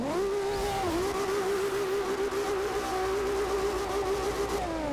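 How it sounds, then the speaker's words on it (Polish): Toyota Supra in the racing game Forza Horizon 2 launching at full throttle, its engine revving loud and continuous with pitch rising, briefly dipping at gear shifts and climbing again, heard alone without talk. "pokażę wam jak wygląda start w Suprze, jak dociśniemy do końca pedał gazu."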